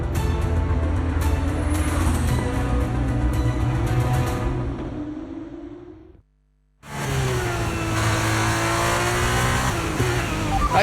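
A Formula 1 car in the racing game F1 23 pulls away on brand new tyres, its engine roaring steadily and climbing in pitch. A brief gap of silence follows, then the engine note resumes at full volume.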